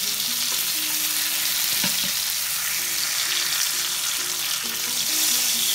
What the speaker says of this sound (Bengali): আমাদের আলু আর বেগুনগুলো ভালো করে ভাজা হয়ে গেছে